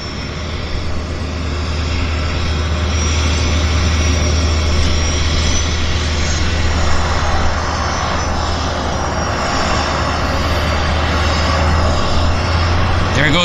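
Floatplane engines at a Vancouver float base drone loudly and steadily, a continuous near roar with a strong low hum, as the aircraft builds power on the water; a commentator's voice runs over it.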